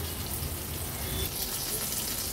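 Plain fish pieces frying in a pan over a low-medium flame for an Agri-Koli style fish thali, giving a steady, even sizzle with a soft hiss throughout, close by and without any talk.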